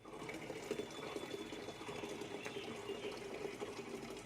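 Water runs steadily into a container being filled for watering plants, a faint continuous splashing hiss with a low hum underneath, no voices.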